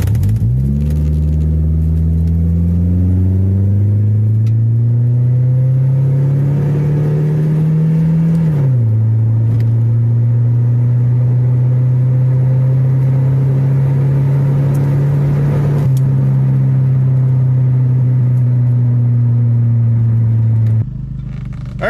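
A Ford with a Twin Spark 2.3L SOHC engine and a coil pack mod accelerating from inside, engine pitch rising steadily then dropping at a manual shift and climbing again, loud and sustained without talk.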